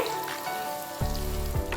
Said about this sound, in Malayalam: ചിക്കൻ പൊരിച്ചത് വേണം നമ്മൾ അത് പൊരിക്കാൻ ഇട്ടിട്ടുണ്ട്